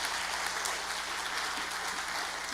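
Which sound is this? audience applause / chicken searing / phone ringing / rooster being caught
audience applause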